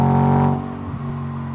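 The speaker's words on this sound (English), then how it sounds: "the engine noise on this is 10 times more emotional" A BMW E92 M3 V8 engine revs loudly with a deep, steady harmonic growl, then eases down to a lower idle-like drone.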